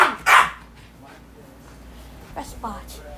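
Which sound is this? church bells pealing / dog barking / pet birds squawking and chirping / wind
dog barking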